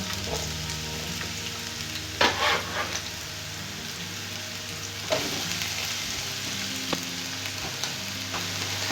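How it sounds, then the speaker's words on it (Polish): Onion fries in ordinary oil in a hot pan, giving a steady close sizzle with a few louder bursts as it is stirred, no talking. "I będziemy przysmażać cebulę."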